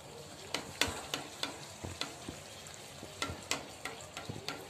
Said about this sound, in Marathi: आता मी सगळ्या पुऱ्या तळून घेते